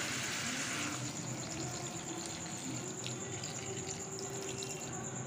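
Hot water pours into a simmering potato and pointed gourd curry (potola alu rasa), a soft, steady rushing wash that stays faint and continuous throughout.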